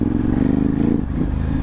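Ducati Hypermotard 950 RVE motorcycle engine while riding, a loud low throbbing twin-cylinder drone with a brief dip and lift in revs, close and steady.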